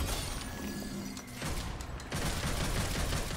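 Rapid pistol fire in Devil May Cry 5, a dense, loud burst of sharp overlapping shots with crackling impacts, briefly easing mid-way before resuming at full intensity.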